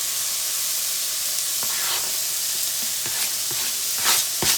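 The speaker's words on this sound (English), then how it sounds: "we're going to add in our onions" Chopped onions hitting a pan of browning chili meat: a loud, continuous sizzle and hiss with scattered sharp crackles and pops throughout, close up and with no talk over it.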